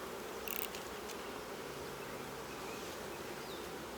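Honey bees hum steadily around an opened nucleus hive, a dense, even buzz close by that holds throughout with no voices.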